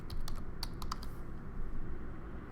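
Fast typing on a computer keyboard, with a quick run of sharp key clicks early on and a few scattered taps after, set against a steady low room hum.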